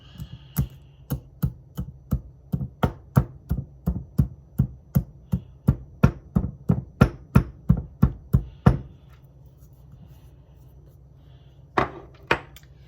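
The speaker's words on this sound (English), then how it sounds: "I'm going to just crush up this little powerful crystal so that it can melt easily in the oils and butters" A camphor crystal being crushed: a rapid, even series of about twenty sharp close taps, then a pause with faint hum and two final taps near the end.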